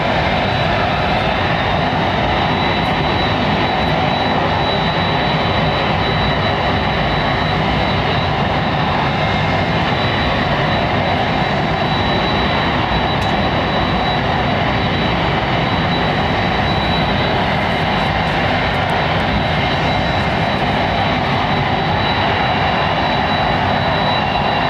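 A United jet airliner at London Heathrow Airport gives a loud, continuous engine roar that holds steady for the whole stretch, close and overpowering.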